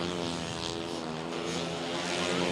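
A droning grasstrack racing motorcycle engine at a British championship race, held at a steady pitch, its harmonic buzz rising and falling gently as it runs continuously, fairly loud and near.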